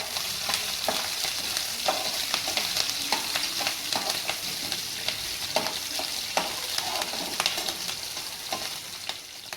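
Green chillies fry in hot oil for village-style homemade poha, giving a steady loud sizzle broken by sharp stirring clicks and scrapes at irregular intervals, with no talking.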